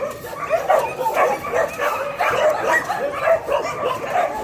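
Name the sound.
dogs barking at an animal shelter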